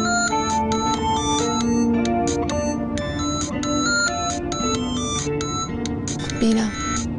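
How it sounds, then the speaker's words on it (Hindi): A phone rings with a repeating electronic melody, steady and fairly loud throughout, with faint voices underneath. "मैं देख लेती हूँ किसका फोन है।"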